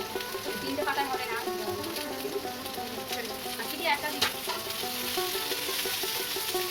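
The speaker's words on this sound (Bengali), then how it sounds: "এবার ডাঁটার সাথে সবজিগুলো খুব ভালো করে ভেজে নেব।" Potato, green plantain, papaya and drumsticks fry together in a pan for sukto, a steady close sizzle and crackle with soft stirring scrapes throughout, and faint indistinct talk in places.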